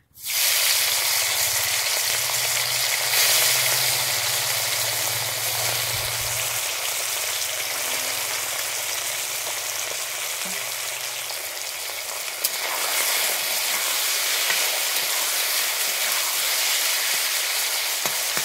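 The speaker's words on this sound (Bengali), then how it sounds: "আমি এইভাবে মাছটাকে ভেজে নেব।" Small mourola fish fry in hot mustard oil, a dense, even sizzle that begins abruptly and stays loud and steady for the whole stretch, with a low bubbling undertone early on and no voices.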